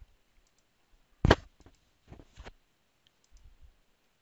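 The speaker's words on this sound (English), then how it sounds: "I'm just clicking to add them back." Computer mouse clicks while adding photos in an online photo book editor: one sharp close click, then a few fainter clicks scattered over a quiet background.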